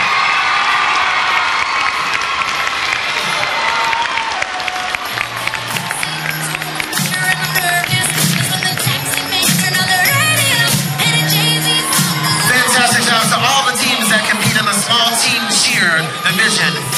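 A crowd at a 2014 school cheer competition's morning awards ceremony cheers, shouts and applauds for the winning small team, including children's excited shouts, loud and sustained, with an announcer's voice over the roar.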